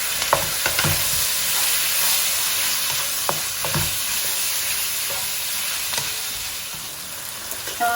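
A single large tomato sizzles and fries steadily in a pan of hot oil with onions already lightly golden. The crackle runs continuously, close and fairly loud, with occasional stirring scrapes and no talking.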